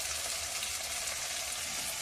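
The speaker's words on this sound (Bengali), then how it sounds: "দিয়ে মশলাটা কষিয়ে নেব।" Spices sautéing with salt and turmeric in a pan, a steady close sizzle with a bright hiss and no talking.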